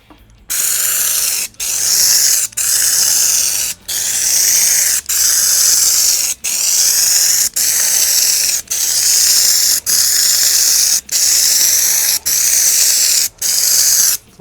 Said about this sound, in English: Now they've got the spray gun worked out. Watch how this stuff goes on.